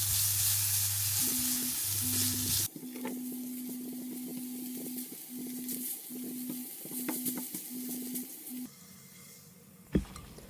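Pork ribs with fermented black beans stir-fried in a wok give a steady, close sizzle with light stirring scrapes, over a low, even hum and one sharp knock near the end.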